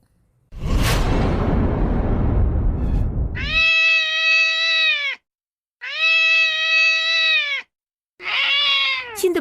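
A cat cries out in a soap-drama scene: a loud rushing swoosh gives way to three drawn-out, wailing meows, each held steady and close, with short silences between them and no talking.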